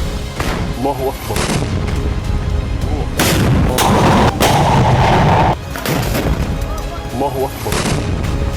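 Mortar rounds fired by Hamas fighters during the Israel–Palestine war, repeated heavy booms and blasts in quick succession, loud and close, with a news narrator talking over them.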